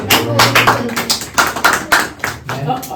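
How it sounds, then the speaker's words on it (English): A group of students playing a classroom English speaking practice game claps in several uneven bursts, close and fairly loud, with a voice speaking over part of it. "Clap, guys"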